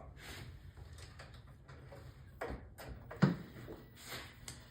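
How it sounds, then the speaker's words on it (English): Coin door of an Alpine ski arcade machine being handled and shut, faint rattles followed by a couple of sharper metallic knocks and a clunk, close and fairly quiet, with no talking. "then I shut the coin door"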